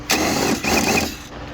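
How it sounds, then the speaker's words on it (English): Impact wrench fitted with an extension, backing out 10 mm bolts in a 2012 Mazda 3 engine bay during brake master cylinder removal: two loud sustained buzzing bursts, close by, with a brief pause between them. "I'm using an extension in my impact here"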